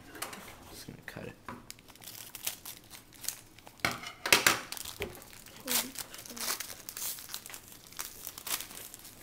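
A foil wrapper on a 2008 Bowman jumbo baseball card pack crinkles and tears as it is cut open, with bursts of close, sharp rustling and crunching, loudest midway through.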